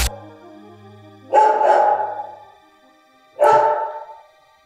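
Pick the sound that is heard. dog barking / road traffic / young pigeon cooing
dog barking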